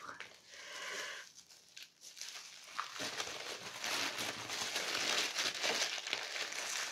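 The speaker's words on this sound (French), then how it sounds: "je vais déballer le cadeau en premier parce que je suis curieuse et impatiente" A wrapped gift holding a heavy book being unwrapped, with close paper crinkling and tearing that grows busier and louder in the second half, a voice heard briefly near the start.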